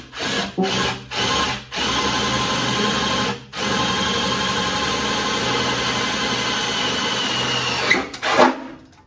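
A power drill with a new bit boring into the steel tailgate of a Honda CR-V, a few short starts then a sustained loud grinding whine lasting several seconds, close up.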